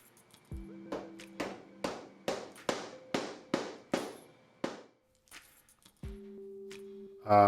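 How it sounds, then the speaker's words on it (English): A mallet knocks press-fit cabinet hinges into place with about ten sharp, evenly spaced taps, close and fairly loud, each ringing briefly before a quiet pause. "this is what I use to knock in the press fit hinges"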